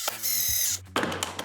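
Exterior pocket hole screws being driven into a bench joint: a steady drill whine for about half a second, a brief pause, then a second burst of driving close by, with no talk.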